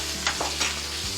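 Red and green bell peppers tossed into a hot pan for cheese steak, giving a brief sizzle with a few stirring scrapes over a steady frying hiss, close and without talk.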